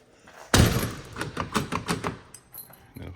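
The door handle and key lock of a Peterbilt 359 truck are worked by hand: one loud clunk, then a run of close metallic rattles and clicks.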